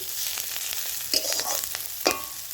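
Chopped onion fries in a pan with green chili, giving a soft steady sizzle with a few brief clatters of stirring, close and fairly quiet.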